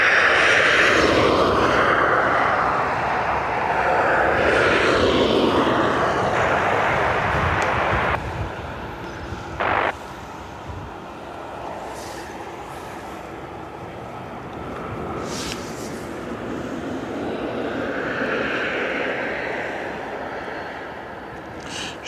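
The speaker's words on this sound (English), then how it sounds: "the ATR coming from the Isle of Man" An ATR turboprop airliner arriving from the Isle of Man at Dublin Airport makes a broad engine roar that is loud at first, then fades to a distant hum with wind noise.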